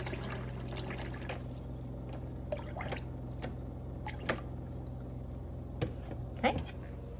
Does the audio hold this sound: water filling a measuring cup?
yes